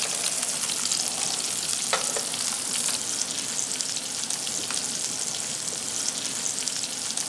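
Halibut fillet frying in a pan for a halibut Milanese, a steady broadband sizzle with crackling oil and a few sharp pops, close and continuous without any talk.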